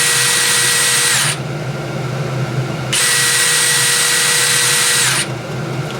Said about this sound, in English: Now let's go ahead and listen to these drills.